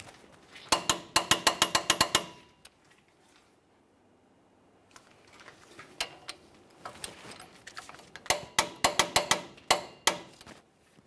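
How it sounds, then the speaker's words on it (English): Ratcheting torque wrench tightening front brake caliper bolts on a 1999-2006 Chevrolet Silverado 1500, giving quick runs of sharp metallic clicks in two main bursts with a quieter gap between, close up and without talk. "snug them up and torque those to 129 foot-pounds"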